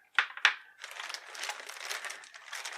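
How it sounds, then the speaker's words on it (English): Tape is cut and pulled off a sealed plastic bag holding a G.I. Joe toy, opening with two sharp crinkly snips close up, then a steady rustle and crackle of handled plastic. "we'll go ahead and cut the tape off the plastic bag."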